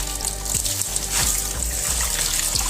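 Water gushing out of a car engine's oil drain in place of engine oil, a steady close splashing stream with irregular gurgling surges and no talk.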